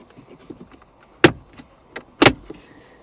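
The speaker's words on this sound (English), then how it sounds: "You're going to hear those tabs come loose." Two sharp plastic snaps pop out about a second apart as trim tabs unclip from a 2012 Kia Sorento center console, surrounded by faint small clicks and rustling.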